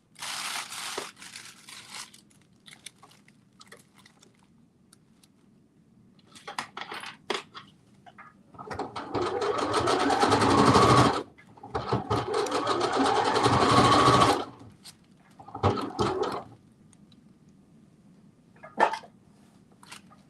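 A sewing machine runs a stay stitch on a dress pattern piece in two long, loud bursts of rapid mechanical whirring, with quieter handling clicks and rustles before and after.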